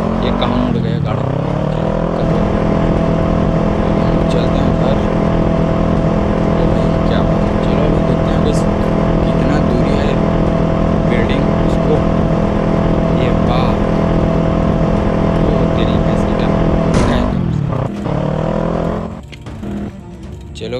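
A car engine droning steadily in the mobile game GTA on iOS, loud and sustained with shifts in pitch, dropping away near the end while someone talks over it.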